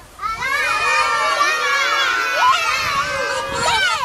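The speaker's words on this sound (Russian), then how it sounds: "просто громко, каждый кричит свое имя" A group of kindergarten children shout their own names loudly all at once, a dense overlapping burst of young voices that holds for several seconds.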